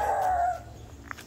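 A single dog gives a short, drawn-out whining bark or yelp that tails off, heard faintly at a hotel in Tagaytay, followed by a brief quiet with a small distant knock.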